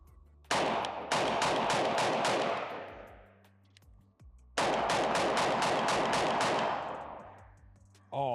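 A Sig MCX Ranch rifle fires two long, loud strings of rapid shots, each crack ringing out with trailing echo and a short pause between the bursts.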